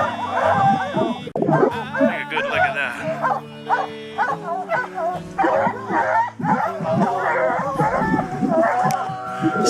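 Hunting dogs bark, yip and whine excitedly at a bear, with a voice talking and urging them on over the steady, close commotion of the pack.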